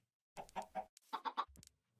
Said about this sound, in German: Blödes Huhn, jetzt geh raus da.